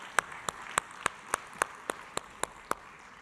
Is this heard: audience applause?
yes